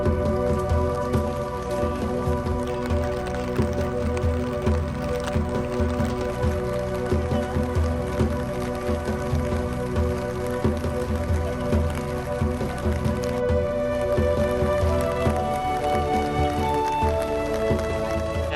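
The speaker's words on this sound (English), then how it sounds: "it's raining a lot harder than we expected" Heavy rain pours down on a Kyoto street in Japan, a dense, unbroken patter of drops striking nearby surfaces, loud and constant with no talking.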